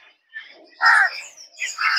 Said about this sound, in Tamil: அங்கே காக்கா தான் கற்றுது